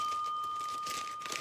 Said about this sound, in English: I have to check the bell to see if it's working.